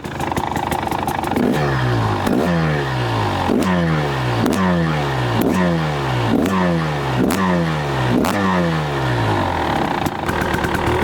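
A 2024 KTM 300 XCW two-stroke dirt bike, started cold, is blipped in a steady series of about seven sharp revs, each rising and falling back to idle, loud and close with no voices.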